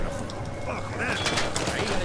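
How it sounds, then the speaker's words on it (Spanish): Enemy guards fire at the player in Uncharted 4, a dense rattle of rapid gunshots and bursts mixed with game noise, steady and close throughout, while someone talks excitedly over it. "Me están reventando a mí todos los tiros, me están dando a mí"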